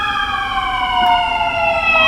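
A local fire department siren wails loud and close, its sustained tone with layered harmonics slowly sliding downward in pitch over a faint background rumble.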